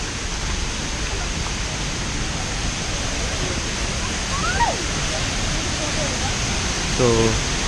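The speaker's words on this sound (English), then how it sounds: "So we are near Arbalam waterfalls right now." Arbalam waterfall in Goa roars as a steady, close, broadband rush of falling water throughout, with faint bird calls and brief sounds heard over it.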